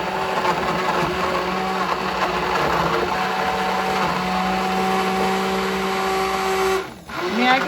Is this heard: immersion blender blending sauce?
yes